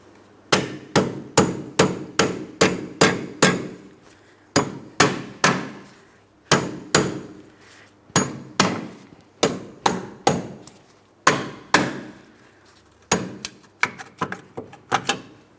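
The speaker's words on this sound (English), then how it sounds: "I'll continue on with a hammer." Hammer blows strike the rear wheel hub of a 2003-2007 Cadillac CTS during a bearing and hub replacement, loud sharp metallic hits in rapid runs of several strikes separated by short pauses.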